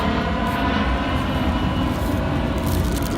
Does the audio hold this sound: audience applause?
no